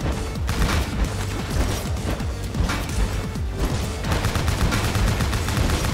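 Rapid video-game gunfire and explosive crashes from Bionic Commando Rearmed 2 during an escape sequence, a dense continuous barrage of shots and booms over a steady game soundtrack, loud throughout with no talking.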